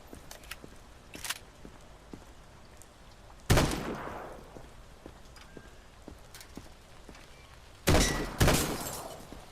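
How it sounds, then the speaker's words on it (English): Gunshots in the video game Quarantine Zone as light bulbs are shot and broken: two loud, sharp cracks several seconds apart, each followed by a short ringing tail, over faint ticking and clattering in the background. "Shoot and break 5 light bulbs."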